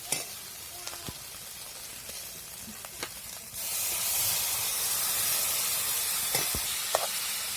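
Bitter gourd goes into hot spice masala with a quiet sizzle and a few scrapes. Partway through, a louder, steady hiss of frying sets in and holds, with a couple more stirring clinks and no speech.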